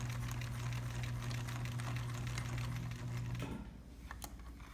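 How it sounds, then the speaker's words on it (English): A sewing machine back-stitching a half-inch seam on a backpack, running with a steady close whirring hum for about three seconds before stopping, followed by a couple of faint clicks. "Lauren's doing a back stitch,"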